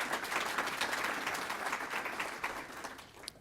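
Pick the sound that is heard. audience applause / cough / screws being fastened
audience applause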